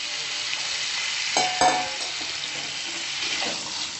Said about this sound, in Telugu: ఇందులో కొంచెం ఆయిల్ వేసాను. పొటాటోస్ యాడ్ చేస్తున్నాను. కొంచెం రెడ్గా ఫ్రై చేసి